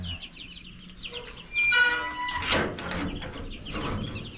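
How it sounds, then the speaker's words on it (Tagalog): Chickens cluck on a backyard farm, with clucks and squawks close by over steady outdoor background noise and no voices. "Ang dami nating manok, mga ka-farmer."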